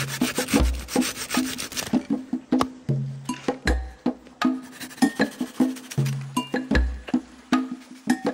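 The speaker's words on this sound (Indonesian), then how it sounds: "Sedangkan kayu yang berukuran besar, aku memotongnya menggunakan gergaji." A hand saw cuts through large pieces of firewood outdoors: close, rhythmic back-and-forth rasping strokes, pausing briefly before resuming at a steady pace.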